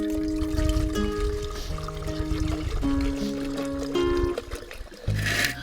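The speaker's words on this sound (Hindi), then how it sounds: "पानी डाल।" Water pours from a jug into a clay pot at a forest campsite cooking spot, a steady gurgling trickle lasting several seconds with shifting ringing tones as the pot fills, close by and without talk.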